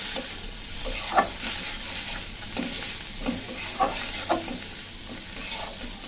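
Chili powder and turmeric sautéing in oil in a pan, a steady close sizzle broken by repeated scraping strokes of a spoon stirring the spices, with no voices.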